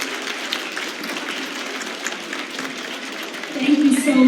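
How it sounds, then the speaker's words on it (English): Applause from an audience at an opening-remarks session of an anniversary celebration, a steady wash of many hands clapping throughout, swelling louder near the end. "let's give them a big applause,"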